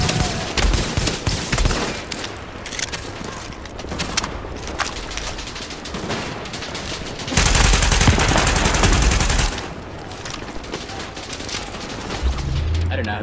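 Sustained bursts of automatic gunfire and shotgun blasts from a shooter video game, dense and loud, with a heavier barrage partway through; a voice speaks briefly over it.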